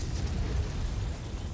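Gauss rifle shots strike targets in MechWarrior 5: Heroes, a dense, low, rumbling burst of explosive impacts that holds fairly steady through the short moment without any voices.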